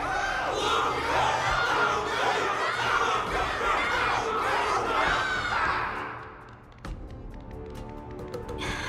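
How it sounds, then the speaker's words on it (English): A big arena crowd cheers and shouts continuously for a fighter after a wardance battle in Honkai: Star Rail, loud and sustained before dropping off into quieter scattered noises. "Everyone's cheering for you"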